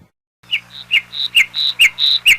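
A parrot gives a rapid string of loud, close chirps and whistled calls, about eight sharp notes in quick rhythmic succession, heard alone without any voices.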